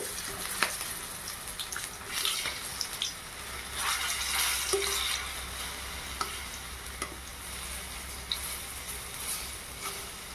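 Jackfruit koftas frying a few at a time in oil over medium heat, a steady close sizzle and bubbling with occasional utensil knocks as they are moved.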